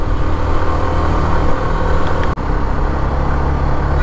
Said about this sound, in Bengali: বাইকটা একটু আসলে বেশি সময় ধরে চালাচ্ছি